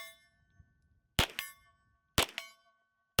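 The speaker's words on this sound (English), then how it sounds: "hitting targets almost 50 yards away, you know, a small chunk of steel out there." CZ Scorpion rounds striking a small steel target roughly 50 yards out: three sharp impacts about a second apart, each followed by a bright ringing metallic ping that decays slowly, with quiet gaps between and no talk.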